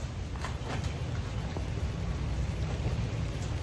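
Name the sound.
heavy rain getting stronger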